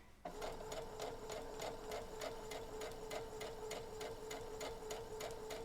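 A sewing machine stitches through scrap fabric in a steady, fast mechanical chatter with an even rhythmic pulse, close and continuous, with no talking.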